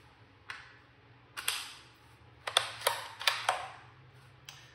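A stick magazine is pressed out of a Rossi RB22 bolt-action .22 rifle, giving a series of sharp, close metallic clicks and clacks in irregular bursts against a quiet background.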